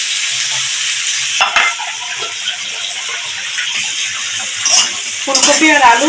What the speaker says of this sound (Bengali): ফুলকপি আর আলু ভালোভাবে কষানো হয়ে গেছে